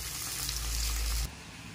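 Pieces of rui fish fry in hot oil until reddish-brown, giving a loud, dense, continuous sizzle that cuts off abruptly just past the midpoint, leaving a quieter hiss.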